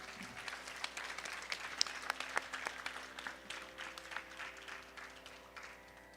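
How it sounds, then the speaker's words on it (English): Audience applause for a Bharatanatyam dancer at her arangetram, faint and distant in a hall, a steady wash of many hands clapping at once. "Ladies and gentlemen, please join me in a round of applause for our all-rounded dancer."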